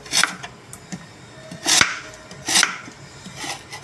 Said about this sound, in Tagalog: ito po ang ating lotus root. Hiwain na po natin siya.